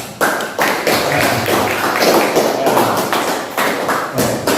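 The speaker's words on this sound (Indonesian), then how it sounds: "Ya, kita kasih aplaus." A classroom audience claps together in a dense, steady round of applause that runs unbroken at close range for several seconds.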